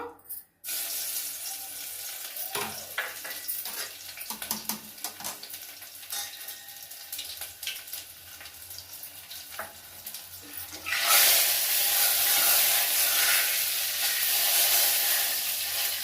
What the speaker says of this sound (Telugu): ఇప్పుడు నూనె పెట్టినానండి. ఇప్పుడు వెల్లుల్లి వేస్తున్నానండి.